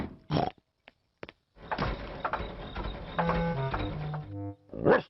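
A sputtering, clanking cartoon car engine in Peppa Pig with grinding, rattling and droning tones, struggling and uneven, close by with short pauses between bursts.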